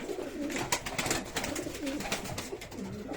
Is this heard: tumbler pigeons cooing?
yes